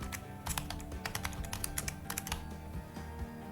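Rapid, irregular keystrokes on a computer keyboard while entering a Python command, clicking close and clear over a low steady hum, with no voices.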